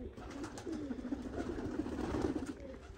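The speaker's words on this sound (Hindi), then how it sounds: "मामू ने कबूतरां थोड़ी बीमारी पई है।" Pigeons cooing on a village rooftop, a run of soft, close, repeated throaty coos with low ambient background and no talk.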